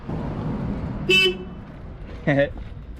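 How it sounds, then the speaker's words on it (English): Two short car horn honks, spaced about a second apart, over a low hum of street traffic in the City of David, Jerusalem. "Gonna blow my horn. Honk my horn."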